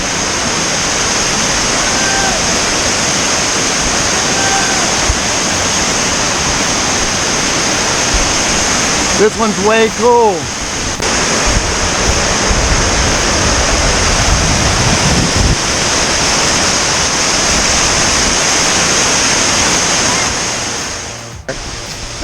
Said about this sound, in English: We made it to the 4th waterfall.